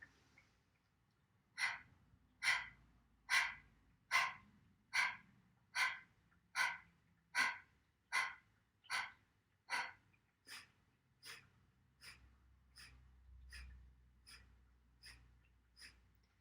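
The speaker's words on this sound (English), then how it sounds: "a strong, percussive, sharp exhale" Around fifteen strong, sharp, percussive exhales for a lymphatic health exercise follow one another in a steady, even rhythm, close and clear with no talking.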